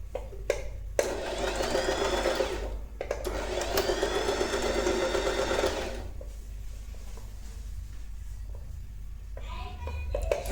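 An electric sewing machine stitches royal blue lehenga saree fabric in two sustained motor runs of a few seconds each, separated by a brief pause, with a quieter room hum afterward.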